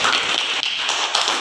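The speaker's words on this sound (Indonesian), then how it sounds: "tepuk tangan." Students clapping in a classroom, a dense, steady round of hand claps from a group that runs continuously and fairly loud for the whole stretch.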